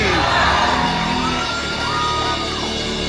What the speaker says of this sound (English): Clap your hands, shout, scream.